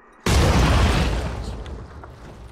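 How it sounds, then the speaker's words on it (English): A grenade detonates in the Phoenix Point video game, a sudden loud close boom with a sharp onset that rolls into a long rumbling decay with faint debris-like crackles trailing off. "Oh, we can get a grenade on this guy."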